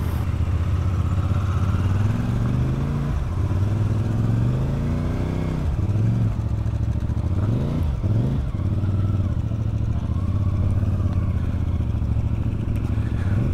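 CFMoto's latest motorcycle with forward controls being ridden, its engine droning loud and steady throughout with a few rises and dips in pitch as the throttle shifts, no talking.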